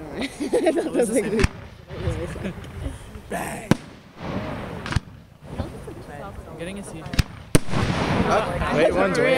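Backyard fireworks exploding in scattered sharp bangs with crackling and hissing between them, close and loud, while voices chatter and exclaim throughout.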